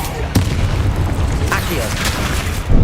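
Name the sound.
explosion from the Confringo spell in the video game Hogwarts Legacy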